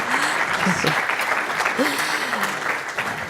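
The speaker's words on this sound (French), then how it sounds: "Merci d'applaudir." A crowd claps loudly and continuously, with a few voices briefly audible through the applause.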